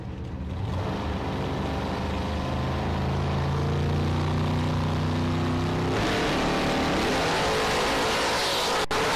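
Drag race launch pitting a blue Chevrolet S10 against a Roadster, a loud sustained engine roar with rising harmonic tones that shifts pitch partway through as the vehicles pull away, with a sharp click near the end.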